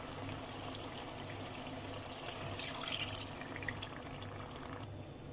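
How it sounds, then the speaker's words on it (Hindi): Water poured from a cup into a pot of rice for chicken tahari, a steady close trickle and splash with a faint hum underneath, no talking. "तो हम इसमें पानी ऐड कर रहे हैं।"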